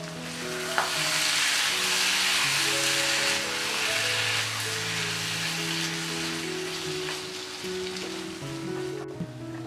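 Pork pieces sizzle and fry steadily in a hot pan while being stirred to brown them for Kerala-style pork varattiyathu, a continuous crackling hiss with occasional scraping and no talking.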